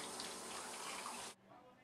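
Water runs from a kitchen tap during dishwashing, a steady close hiss and gush that cuts off abruptly near the end.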